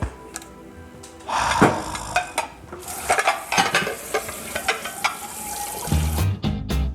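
Dishes being washed at a kitchen sink: running water splashes steadily while plates and utensils clink and clatter in irregular bursts, fairly close, with no talking.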